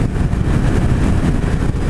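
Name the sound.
2016 Suzuki Hayabusa motorcycle engine pulling in 6th gear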